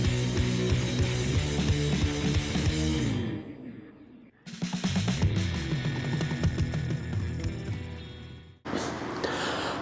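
Ratchet clicking while tightening the rearset linkage on a Ducati V4 Panigale, close and busy mechanical clatter broken by two brief pauses.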